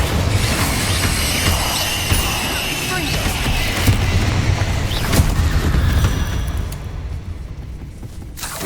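Spell blasts and explosions in Hogwarts Legacy boom and crackle in a dense, loud, continuous barrage of impacts and bursts, with a voice calling out over the battle.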